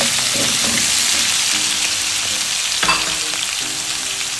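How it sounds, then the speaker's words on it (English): Garlic sizzles steadily in a hot pan, a close, continuous frying hiss with occasional stirring clicks and no talking. "Fry that a little bit until it becomes fragrant."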